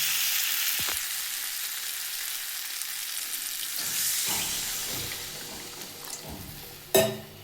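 Water poured onto sautéed spices in a pan for a fish roe curry with potato and parwal, a loud steady hiss that softens into bubbling, then a few spoon scrapes and a sharp clank near the end.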